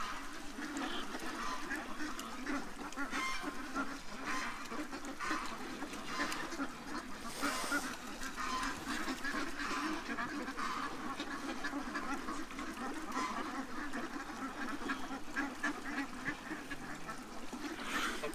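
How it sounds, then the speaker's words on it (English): A large wintering flock of around a hundred female ducks, several big males and geese keeps up a dense, continuous chorus of quacks and honks close by, with faint voices now and then beneath it. "More than likely around 100 female ducks, all the geese, and about 10 of the biggest males."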